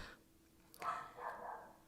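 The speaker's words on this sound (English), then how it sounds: "And there's the dog." A dog gives a short bark followed by a softer, drawn-out whimpering vocalization, heard close and fairly quiet against a faint room hiss, with no talking.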